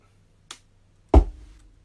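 Kick drum sampled from K-Swiss sneakers: a faint tap followed by one loud, low, booming thump that decays quickly, close and alone.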